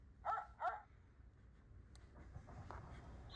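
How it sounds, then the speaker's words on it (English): Two quick, quiet barks from a dog, close together at the start, followed by faint low background rumble. "Dog."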